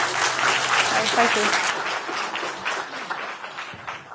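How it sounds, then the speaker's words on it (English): An audience gives a speaker a big, sustained round of applause at a talk on ethics and client data; the dense clapping fills the whole stretch while a voice speaks briefly over it. "Give her a huge round of applause."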